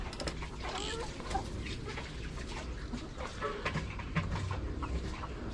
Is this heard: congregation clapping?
no